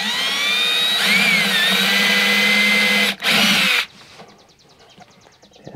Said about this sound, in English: we're just gonna take 1/8 inch drill bit